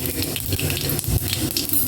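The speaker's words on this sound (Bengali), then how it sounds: "তেলটা গরম হয়ে গেলে এতে হাফ টেবিল চামচ পাঁচ ফোড়ন দিয়ে দিলাম" Half a tablespoon of panch phoron five-spice sizzles in hot oil in a kadai, a close, steady crackling hiss that runs throughout with small pops and no voices.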